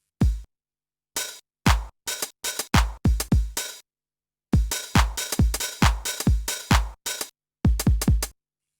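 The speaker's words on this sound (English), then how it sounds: "Just what you're hearing there, I sampled in a loop that I made on the MPC and just recorded it in." A Teenage Engineering PO-33 sampler plays back a loop first built on an MPC, giving choppy bursts of sampled sound in short rhythmic clusters with a clear gap of silence midway, close and dry with no talking.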